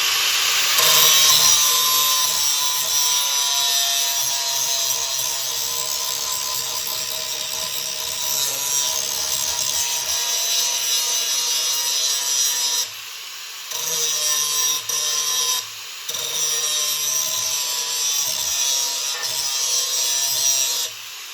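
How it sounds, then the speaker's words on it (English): Angle grinder running across the lip of a Kubota TG1860G mower blade, a loud continuous close-up grinding whine with brief dips where the disc lifts off the steel. "Now I just take my angle grinder and I go across"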